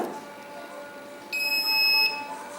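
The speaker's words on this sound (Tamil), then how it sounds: "2 சைடு வைக்கும்போது பீப் அடிக்குது" A multimeter's continuity beep sounds while its probes touch both ends of a mobile phone coil: one steady, fairly loud electronic tone lasting under a second, set against a quiet background with no talking.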